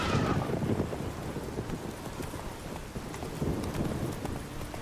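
Roach, Geralt's horse in The Witcher 3: Wild Hunt, clip-clops along at a steady rhythmic gait, with soft wind-like ambience behind the hooves.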